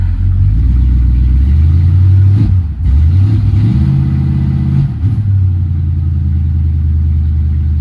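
A 1964 Valiant engine running at high idle just after a carburetor rebuild, a loud, close, steady rumbling drone with a brief dip and slight wavering in pitch.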